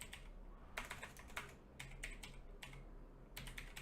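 Quiet, steady typing on a computer keyboard, with rapid keystroke clicks in uneven bursts over a faint background hum during a C# programming session.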